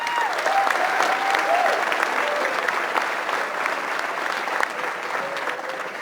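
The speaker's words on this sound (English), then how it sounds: "give a round of applause." Audience applauds a coach at a motivational address, a dense, steady wash of clapping that holds at full strength for about six seconds with a faint crowd murmur underneath.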